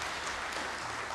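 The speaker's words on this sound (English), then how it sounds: "And we need a hand of applause for Yaqub" Brief, faint applause from a conference audience in Karachi, a soft wash of clapping from a distance.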